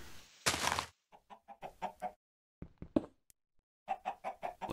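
A Minecraft chicken in a Sky Factory 3 world gives a burst of noise, then a string of short, clipped clucks in quick bursts, close and clear with quiet gaps and no talking.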